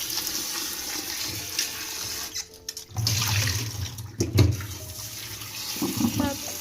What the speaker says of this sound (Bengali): প্রেসার কুকারে আলুটা ধুয়ে নিই বাবু